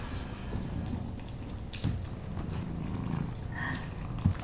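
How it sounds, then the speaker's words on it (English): Kittens purring close up make a soft, continuous low rumble with faint rustling and small movement noises, all at a fairly quiet level. "Oh, so much purring."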